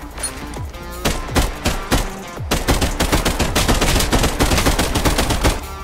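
Rapid gunfire from the VR battle royale game Contractors Showdown, a loud close burst of shots that opens sparse, then after a brief gap turns into dense, sustained automatic fire rattling through to the end.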